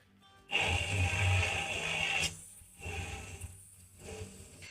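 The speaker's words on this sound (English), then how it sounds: "And let's blend everything with a hand blender." A hand blender whirs through an apple sauce mixture in a jug, switching on loudly after a short pause and then running in uneven bursts that stop and restart several times.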